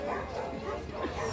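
At a Friday dog market, a dog gives short bow-wow barks and yips, fairly faint and mixed in with people talking nearby.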